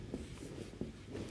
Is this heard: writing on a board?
yes